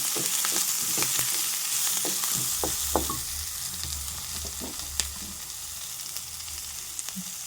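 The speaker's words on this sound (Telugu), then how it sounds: "ఈ పసుపు కూడా అంతా కలిసేలాగా చక్కగా ఇలా కలిపి పెట్టుకోవాలి." Turmeric stirred into curry leaves and spices frying in oil: a steady, close sizzle with scattered spoon scrapes and taps against the pan, continuous throughout with no voices.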